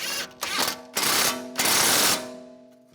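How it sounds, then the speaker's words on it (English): Nut being tightened while replacing a strut on a 2004-2010 BMW X3: three loud, close mechanical bursts of rattling, buzzing power-tool noise, each cutting off sharply, the last fading out, with no talking. "Get the nut started. And tighten that nut down."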